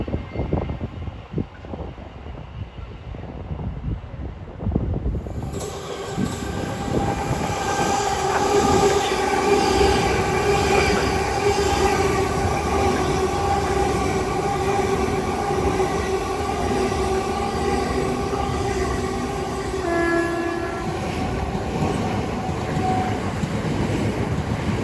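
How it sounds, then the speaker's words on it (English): Class 707 units 707023 and 707026 on a Charing Cross to Dartford service roll through New Cross, the sound building suddenly into a loud sustained rumble with wheel and motor whine, continuing steadily as the train passes close by. "707023 with 707026 working a service from Charing Cross"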